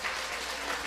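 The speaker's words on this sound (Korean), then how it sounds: "하나님께 영광의 박수를 올려드립니다" A church congregation claps during a Sunday worship service after a hymn, a dense, steady burst of applause filling the hall at moderate loudness with no voices over it.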